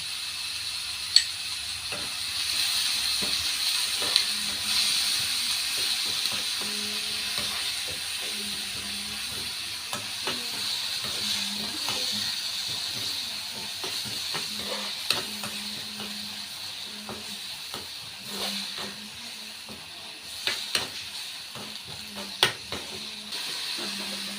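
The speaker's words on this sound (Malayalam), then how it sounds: "ഇടാം വെളുത്തുള്ളി പച്ചമുളക് കറിവേപ്പില നമുക്ക് പെട്ടെന്ന് വാരി വാടാൻ വേണ്ടി നമുക്ക് കുറച്ച് ഉപ്പ് കൊടുക്കാം" Garlic, green chilli and curry leaves fry in a hot pan with a little salt. A steady close sizzle and hiss runs throughout, broken by occasional scrape and tap of the stirring spoon.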